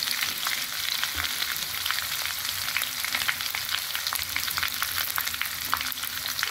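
Chopped onions sauté in a frying pan with a loud, continuous close sizzle and occasional stirring scrapes, with no voices.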